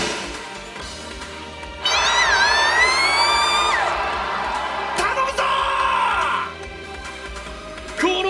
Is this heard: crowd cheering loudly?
yes